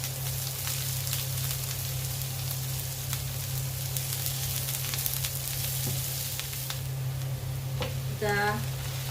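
Ginger, onion and onion leaves sauté in a hot pan with a steady, even sizzle over a constant low hum, continuing unbroken and close, with a brief stir or scrape near the end.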